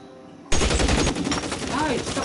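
Sudden burst of rapid gunfire in LA Noire, a dense chattering volley that starts abruptly and continues steadily, loud and close, with a faint ricochet-like whine near the end.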